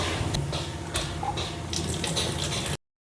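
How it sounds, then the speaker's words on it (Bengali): Large prawns being rinsed under a running kitchen tap, with a steady close stream of water splashing and gurgling for about three seconds before it cuts off. "চিংড়ি মাছ কাটা হয়ে গেছে, এবার এগুলোকে ধুয়ে নেব।"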